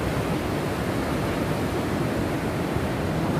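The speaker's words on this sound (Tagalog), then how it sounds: "Lakas ng alon." Strong ocean waves surging at New Brighton South beach during high tide, a loud, continuous broadband roar of surf with no break and no voices.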